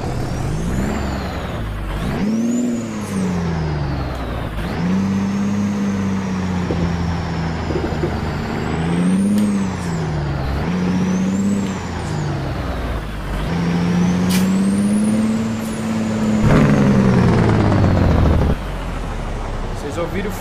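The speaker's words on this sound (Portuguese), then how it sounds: "Vocês ouviram o freio motor da parada." Video game Kenworth K200 truck engine droning and rising and falling through several shifts, with a sharp hiss of air and engine braking toward the end.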